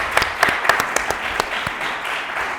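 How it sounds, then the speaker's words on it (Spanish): Scattered audience clapping at a book presentation in Logroño city hall, sharp claps coming in a loose, uneven rhythm over a steady murmur of room noise. "porque me pide un aplauso."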